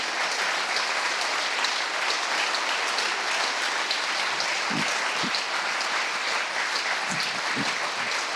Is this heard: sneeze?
no